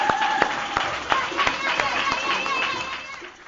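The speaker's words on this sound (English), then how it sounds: "giving him warm applause, warm love, warm appreciation, warm acknowledgement" An audience at a spiritual lecture gathering gives scattered, moderately loud hand claps, with distinct individual claps over a murmuring room that thins out toward the end.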